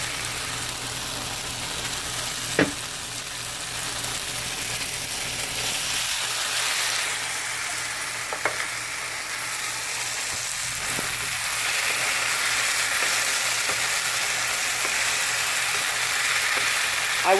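Okra and tomatoes frying in a pan, seasoned with Louisiana hot sauce, give a steady close sizzle that holds for the whole stretch, with a few faint clicks and slightly louder toward the end.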